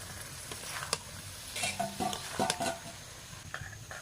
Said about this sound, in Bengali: ফুলকপি আর 5 মিনিট মতো কষিয়ে নেব মশলার সঙ্গে